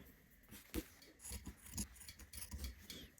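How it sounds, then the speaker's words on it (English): Scissors snip through fabric seam allowances on shirt cuffs, a series of short, quiet crisp cuts in an irregular rhythm at close range, with no talking. "we're just going to go through here and trim those seam allowances in half"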